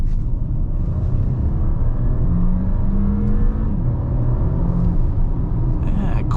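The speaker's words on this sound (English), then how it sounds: "Quite the acceleration power with this car" A 2024 Audi A7 Prestige with a V6 accelerates hard from about 25 mph, its engine note climbing in steady rising sweeps broken by quick dual-clutch gear changes, heard loud from inside the cabin.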